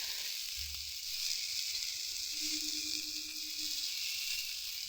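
Spices with turmeric frying in a pan over lowered gas, a soft steady hiss and sizzle, quiet and close, with a brief low knock near the start.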